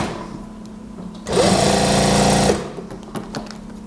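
A sewing machine runs one loud, steady burst of about a second, stitching a straight seam on a daster dress, with quiet room sound before and after.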